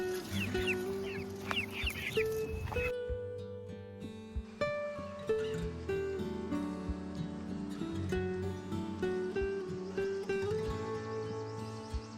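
Several roosters and hens cluck and murmur nearby, irregular calls overlapping against a quiet barnyard background, no talking.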